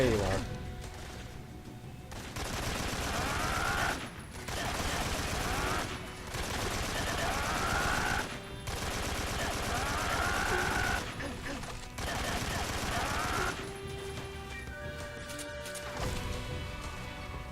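Gunfire in Metal Gear Solid 3, with sustained bursts of rapid shots in several long stretches broken by brief pauses, mixed with game sounds and a person talking over it.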